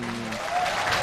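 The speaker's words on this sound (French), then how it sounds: "qui posent pour applaudissements s'il vous plaît" Applause breaks out from the audience at a University of Kinshasa ceremony with the country's president, a short burst of dense clapping that swells slightly toward the end.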